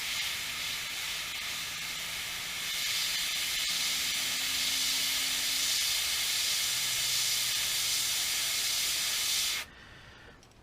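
An airbrush hisses steadily as it sprays paint with light air pressure onto the feet of a Whopper Plopper fishing bait in a mouse or rat pattern, a continuous close airy spray that cuts off abruptly near the end.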